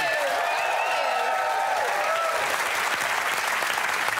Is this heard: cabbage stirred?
no